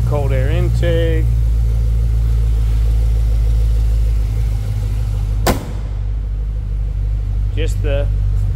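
A stock 2010 Chevrolet Camaro 2SS with the factory 6.2-liter V8, no headers or cold air intake, idles with a steady low rumble, broken by a sharp transient midway, while voices talk over it at the start and end.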